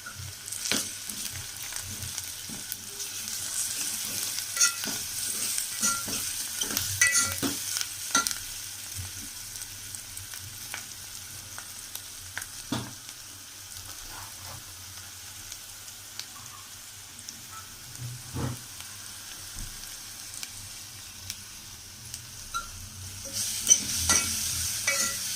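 Ginger garlic paste frying in a pan for gongura boti, a quiet steady sizzle broken by scattered stirring clicks and scrapes, close by and unaccompanied by voices.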